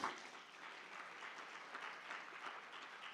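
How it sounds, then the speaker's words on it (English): Students in a conference hall give a round of applause, a faint, even wash of clapping from a distant audience. "let's give a huge round of applause to him"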